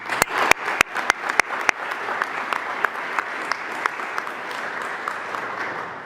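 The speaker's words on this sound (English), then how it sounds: "So let's give each other a round of applause." Applause at a DOJ Pride 30th anniversary celebration: a few sharp, close claps stand out at first over a crowd clapping together, which then thins into a lighter, fading patter.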